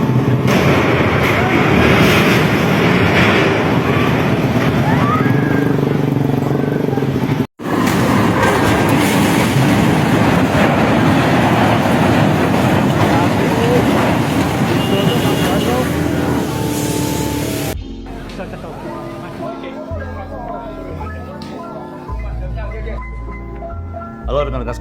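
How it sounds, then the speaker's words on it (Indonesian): A train in the Semarang railway accident roars past loud and close with heavy rumbling and clattering for a long stretch, then gives way to quieter, more scattered sounds. "tadi potongan video dari peristiwa kecelakaan kereta api"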